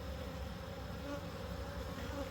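A steady low drone of many honey bees swarming around two busy hives, soft and distant-sounding, continuous with no talking.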